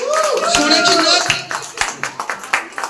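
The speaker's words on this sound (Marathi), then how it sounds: "पूजाताईंसाठी एकदा जोरदार टाळ्या होऊन जाऊ दे." An audience at a Home Minister paithani game show in a housing society claps for a contestant. The clapping is short and scattered and sits under a loud voice speaking over a microphone.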